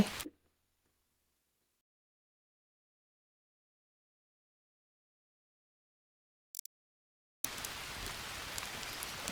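Steady rain hiss in the video game Green Hell begins abruptly after a long silence, preceded by a brief noise burst at the start and a short click midway.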